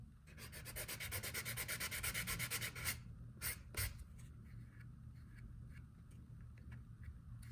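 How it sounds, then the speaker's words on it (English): A sandpaper block rubs back and forth along the painted edge of a leather cardholder in quick, rhythmic strokes, then slows to a few separate scrapes and soft, sparse rubs, close and quiet with no talking. "I'm keeping the sandpaper block just on the edge like so."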